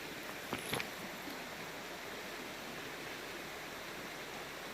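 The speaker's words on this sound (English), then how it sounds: "Beautiful, quiet morning at the East Fork River." Steady, soft rush of the East Fork River flowing on a quiet morning, an even wash of water noise with a couple of brief faint knocks near the start.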